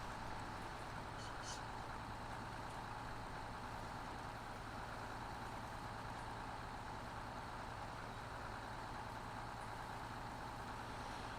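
Off-road truck in SnowRunner, a low steady engine drone held throughout at a quiet level, with faint rumble and no clear changes in pitch.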